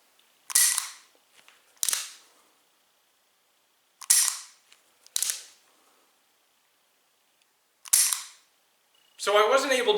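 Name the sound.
dry-fire trigger pulls on a pistol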